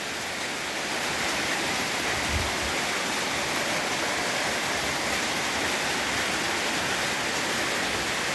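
Heavy rain after a night of downpour, heard as a dense, steady roar of falling water close by, with no voices.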